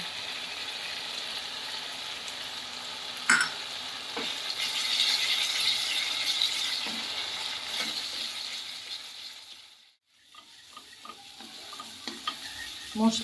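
Paneer masala sizzling and frying in oil in a pan, a steady hiss with stirring scrapes, dropping briefly near the end before resuming.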